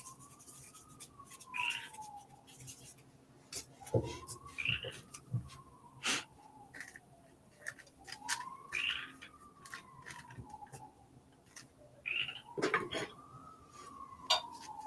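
A repeating swooping frog call outside a window rises and falls every few seconds, like a distant siren, broken by short chirps, with scattered clicks and soft knocks nearby.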